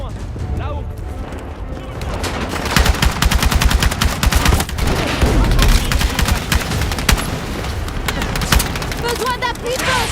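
Dense, loud machine-gun fire from the Battlefield 6 video game rattles almost continuously, with booming shots and battlefield din under shouted in-game voices.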